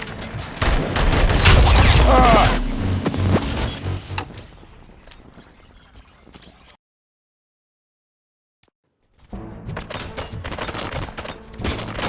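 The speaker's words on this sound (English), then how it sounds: "Gunshots? What's going on?" Bursts of rapid gunfire and loud action noise from the video game RoboCop: Rogue City fill the first seconds, thin out, drop to near silence, then resume with scattered shots and clatter.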